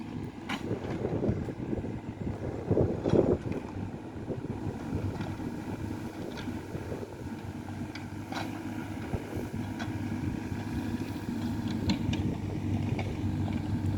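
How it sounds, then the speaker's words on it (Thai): Strong wind blowing outdoors at a cemetery work site, a continuous rumbling rush with occasional buffeting and faint clicks, moderately loud and steady throughout, no talk. "ลมแรงครับลมดีมาก"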